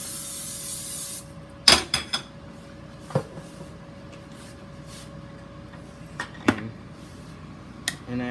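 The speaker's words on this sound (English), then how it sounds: "I like to spray it so it doesn't stick." A cooking spray can hisses in one short burst onto a stovetop pan set to medium heat, followed by a few sharp clinks and knocks of cookware nearby.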